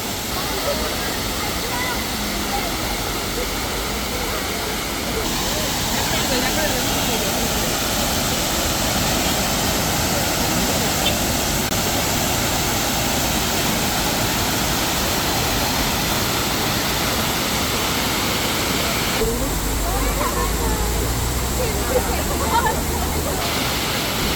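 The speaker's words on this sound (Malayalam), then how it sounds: "ഇതാ വെള്ളച്ചാട്ടത്തിൽ നിന്ന് വരുന്ന വെള്ളം" A monsoon waterfall in Munnar pours down in a steady, loud, broadband roar of rushing water that fills the whole stretch without pause, close and continuous.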